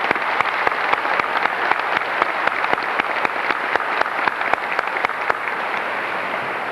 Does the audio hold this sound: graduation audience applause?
yes